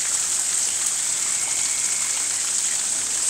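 Steady rain falling at night in the woods, a constant hiss of drops throughout with no talk, fairly loud and even from start to end.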